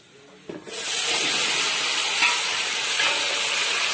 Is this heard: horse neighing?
no